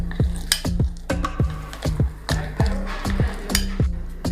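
A spoon scrapes and knocks rhythmically against a bowl while crushed Oreo biscuits are mixed with powdered sugar, a steady run of close clinking strokes roughly twice a second.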